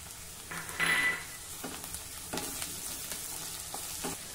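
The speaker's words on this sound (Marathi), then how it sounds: "हा कांदा थोडा परतून झाला की यामध्ये 1 टेबलस्पून ठेचलेलं आलं लसूण घालूया।" Onion frying in a pan with crushed ginger and garlic added, a soft steady sizzle with occasional stirring scrapes and a brief louder hiss near the start.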